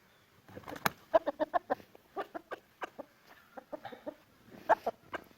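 An Indian game rooster is let into a homemade garden cage, giving a run of short, rhythmic clucks close by, clearly spaced and repeated, with no talk over them.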